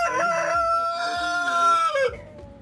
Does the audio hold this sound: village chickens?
yes